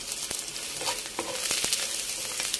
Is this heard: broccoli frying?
yes